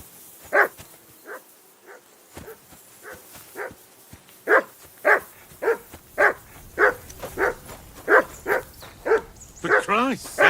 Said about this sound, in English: Call off that damn dog before he wolfs down the last of our mates.